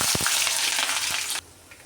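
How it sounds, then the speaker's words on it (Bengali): Onion and green chili fry in oil in a wok with bay leaf, cardamom and cinnamon, making a dense, close sizzle with a couple of stir knocks that drops away abruptly near the end. "পেঁয়াজ আর কাঁচামরিচ দিয়ে দিলাম"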